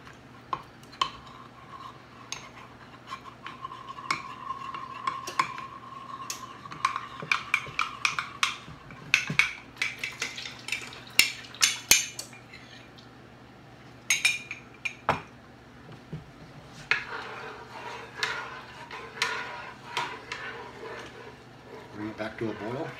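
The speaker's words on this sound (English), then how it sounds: "Mix that up. So I'll dissolve all that cornstarch." A spoon clinks and stirs against a pot as two heaping spoonfuls of cornstarch are dissolved, producing irregular metallic taps and scrapes over a steady background hum.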